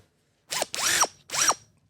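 A small toy prop drill with a light gives three short whirring bursts that rise and fall in pitch, close by and fairly loud, with a high whine like a dental drill.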